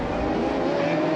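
A dense, loud roar of race car engines on the grid at Circuit de Catalunya as the European Le Mans Series formation lap begins, a continuous layered blare with no break.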